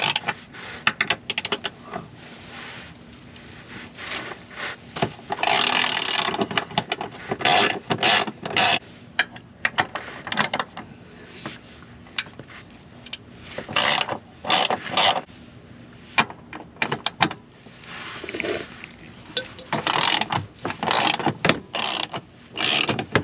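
A ratchet wrench loosens the 18 mm driveshaft bolts underneath an S550 Mustang. Bursts of loud, close clicking and creaking repeat in irregular runs with short pauses between them, and no one speaks.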